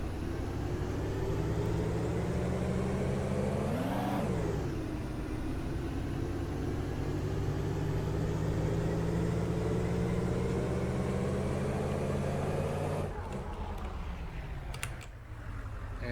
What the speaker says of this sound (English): So now we're just going to start the vehicle, and we're going to drive a little ways.